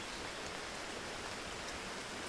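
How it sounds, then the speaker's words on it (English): Steady rain hisses in the Fishing Party VR video game, a soft, even broadband wash of falling drops with no break over its couple of seconds, quiet and alone, with no talking. "It's raining now."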